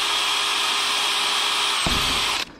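A power drill drives screws into wooden footer form stakes at a construction site. It gives a steady, close whine for about two seconds, then a brief lower grinding burst as the screw seats before the motor cuts off.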